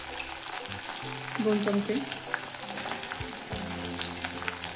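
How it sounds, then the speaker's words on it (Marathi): Cumin and fennel seeds fry in a pan for chivda, a steady crackling sizzle with occasional stirring taps; a voice speaks briefly over it. "आता हे व्यवस्थित अगोदर तळून घ्यायचं आहे."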